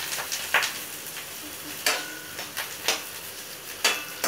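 Pirandai being stirred in a frying pan gives a soft background sizzle punctuated by a few sharp scrapes and clicks of a spoon against the pan, close by and without speech.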